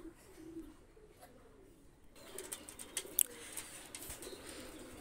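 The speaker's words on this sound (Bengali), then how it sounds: "দেখেন এক পেয়ার গলায় লাল কবুতর নিয়ে আসলাম।" A pair of red-necked racing pigeons coos softly, faint calls close by over low background hiss, with a brief sharp sound partway through.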